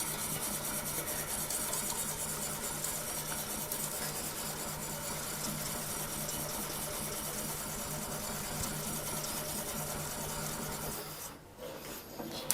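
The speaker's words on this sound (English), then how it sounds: "But let's grab that 600 grit stone." A knife blade rasps steadily back and forth across a 600 grit stone on a Tsprof Pioneer sharpening system, a continuous close grinding scrape that stops near the end, with no talking.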